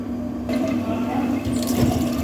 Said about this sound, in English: I will put some water.